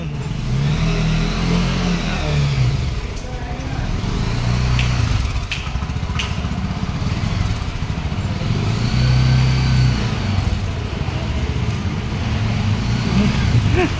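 An auto-rickshaw engine drones steadily while riding along the Western Express Highway, a continuous mid-pitched motor hum with road rumble that swells and eases slightly as it travels.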